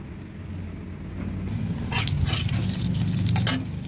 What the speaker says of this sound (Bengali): ফোড়নটাও ভাজা হয়ে গেছে